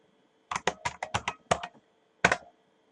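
Quick bursts of keystrokes on a computer keyboard, about seven close, crisp clicks in fast succession, a brief pause, then one last key press, in an otherwise silent room.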